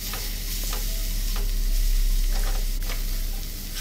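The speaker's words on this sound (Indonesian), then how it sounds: "Tumis bawang putih dan bawang merah yang tadi sudah dicincang halus." Finely chopped garlic and shallots frying in two spoonfuls of margarine in a wok, a loud steady sizzle with occasional scraping stirs, no voices.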